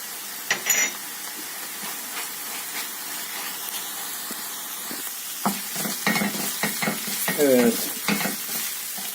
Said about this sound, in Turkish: Güzelce salçamı da etle birleştirip kavurdum.